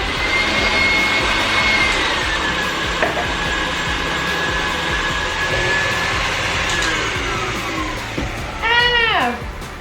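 An electric mixer beats cheesecake batter with eggs for a maple cheesecake, giving a steady, close motor whir with a high whine throughout and a brief squealing chirp near the end.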